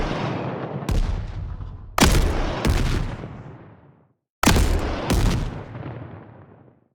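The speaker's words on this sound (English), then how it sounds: "The missile has 2 separate impact sounds, which are chosen depending on how far away the shot lands as well." Hover tank missile shots and impacts in a video game built in UE4 with Wwise: several sharp booming blasts, some paired in quick succession, each decaying into a rumbling tail, with a short silent gap between groups.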